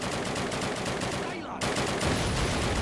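Dense, continuous automatic gunfire rattles loudly in the Call of Duty video game, a steady fusillade that barely pauses before resuming even heavier.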